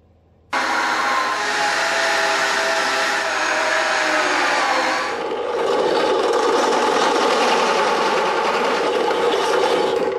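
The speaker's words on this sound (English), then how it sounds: "This has got a step drill for" A step drill whines loudly and continuously, biting into material with a harsh rasping tone that shifts partway through as the cut deepens.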